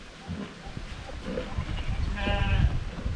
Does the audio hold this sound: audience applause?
no